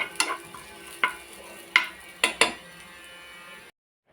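Elephant foot yam (suvarna gedde) frying in a pan, a metal spatula knocking and scraping in five sharp, close strikes over faint sizzling, then sudden silence.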